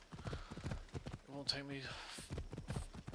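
Horse hooves clip-clopping in Assassin's Creed Odyssey, a light steady trot heard beneath someone talking throughout, with a short whinny-like tone in the middle.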